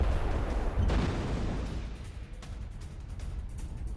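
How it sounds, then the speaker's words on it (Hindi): Russian forces fire heavily on a Ukrainian position in war footage, with a loud blast followed by a steady crackle of rapid distant shots and booms. "यूक्रेनी पोजीशन पर रूसी सेना की भारी फायरिंग"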